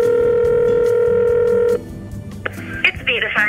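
A phone call placed to a university village beauty salon: a steady electronic ringback tone holds for nearly two seconds, then cuts off as the line is answered and a voice begins speaking.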